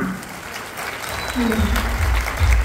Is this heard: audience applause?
yes